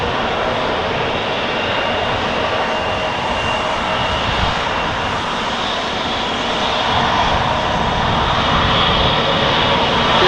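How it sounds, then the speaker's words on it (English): A KLM Embraer 175 jet departs Amsterdam Schiphol for Zurich, its engines producing a loud, continuous broadband roar that holds steady and swells slightly toward the end. "KLM Embraer 175 to Zurich, flight 1921"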